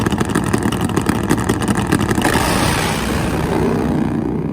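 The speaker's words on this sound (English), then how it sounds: "2 fast nitro-burning Pro Fuel Harleys" Two nitro-burning Pro Fuel Harley drag bikes race side by side at Auto Club Dragway in Fontana, California, a loud continuous engine roar that swells and then fades into the distance.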